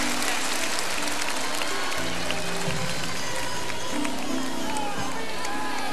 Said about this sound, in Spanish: Más fuerte el aplauso para Fernando Viergo